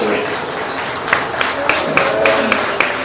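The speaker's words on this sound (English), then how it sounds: "So let's give everybody a round of applause as they walk on out the ring." Audience applause at a sheep showmanship and market lamb show ring, steady crowd clapping with a few sharper individual claps standing out over several seconds.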